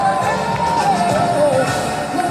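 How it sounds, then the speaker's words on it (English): Loud crowd cheering and whooping as a speaker is welcomed at an event, a dense sustained roar of voices with a melodic line over it, close and continuous throughout. "And now, with a loud applause, please welcome Tara Fela Dumitole"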